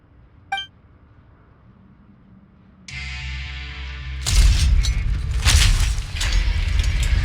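A sluice gate mechanism in Genshin Impact opens: a sharp clink, then a steady mechanical hum and grinding rumble that swells into a loud, broad roar of rushing release.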